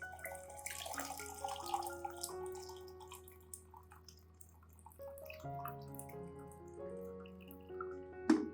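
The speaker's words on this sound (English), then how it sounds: "Add 1 liter of water" Water poured into a bowl of soaking rice with shallots, a steady splashing trickle with dripping and shifting tonal ringing as the vessel fills, close and moderately loud with no talking.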